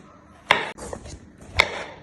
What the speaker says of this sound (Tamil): சீவிட்டை கட் பண்ண போகிறேன்.